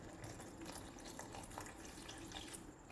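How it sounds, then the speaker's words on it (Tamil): Drinking water pours slowly into onion sambar in a home kitchen, a steady, close liquid trickle and splash running unbroken for the whole stretch with no talk. "இதில் கொஞ்சமாக ட்ரிங்கிங் வாட்டர் விடணும்."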